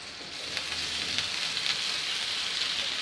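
Cooked rice tossed into a sizzling raw mango tempering with salt and sugar, giving a continuous close frying hiss with faint stirring clicks, no voices.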